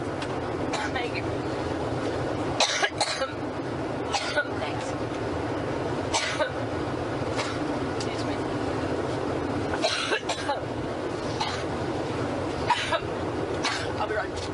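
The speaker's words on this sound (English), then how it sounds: "interrupted by a coughing fit, the second coughing fit that she's had today" Several sharp coughing bursts from a woman during a press conference aboard a campaign plane, spread across a steady cabin drone, with brief talk between the coughs.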